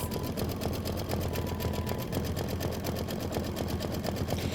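A sewing machine runs steadily, its take-up lever pumping up and down in a fast, even mechanical chatter that stays close and constant throughout, with no talking.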